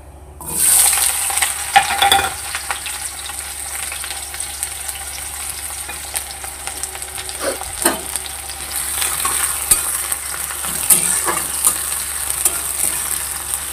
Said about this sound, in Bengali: এই যে তেল গরম হয়ে গেছে, দিয়ে দেব। এবার মাংসটা রান্না করব